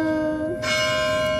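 The UP Diliman carillon bell tower rings out with sustained, resonant bell tones that swell with a fresh strike partway through, heard outdoors without speech.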